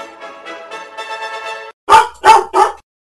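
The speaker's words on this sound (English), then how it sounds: "A dog appeared suddenly from nowhere." A dog barks three times in quick, loud bursts, close by, right after a steadier whining, tonal stretch.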